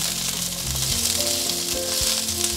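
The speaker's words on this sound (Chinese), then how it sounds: "现在放入甜豆、玉米笋也一起放进来，快速翻炒，" Carrots, sugar snap peas and baby corn sizzle loudly in a hot pan, with a steady hiss of frying and intermittent scraping and clanking of a utensil as the vegetables are tossed quickly, no talking.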